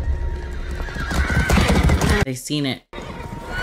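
A horse whinnies loudly in a scene from the first episode of Game of Thrones, a rising, wavering neigh over hoof clatter and scene noise, while viewers talk over it.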